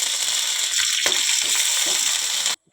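Onion and curry leaves frying in hot oil while cooking a gongura dried prawn curry, a steady close sizzle that runs for over two seconds and then cuts off abruptly.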